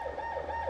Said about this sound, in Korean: 다른 구역에서 사이렌 소리가 울린다. 곧 발파 예정이다.